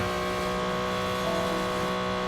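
Race car engine revving hard in a GTE endurance racing video game, pushed into the red; a steady, loud harmonic engine drone holds throughout with no talk.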